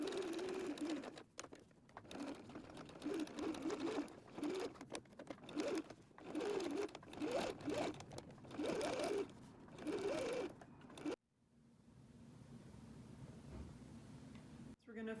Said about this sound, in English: we're going to sew these down at a 1/4 inch seam allowance